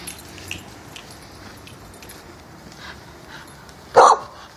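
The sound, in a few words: dog barking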